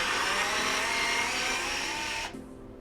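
A Fanttik Fold S1 APEX cordless screwdriver reverses a screw out, a steady high motor whine close up that cuts off abruptly near the end.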